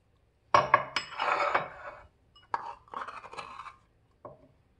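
Crushed garlic being mixed with ginger in a bowl, giving close clinks and scrapes of a utensil against the bowl in two short bursts and a final tap, with no talking.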